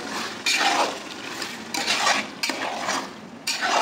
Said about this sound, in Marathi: व्यवस्थित हलवून घ्यायचं आहे.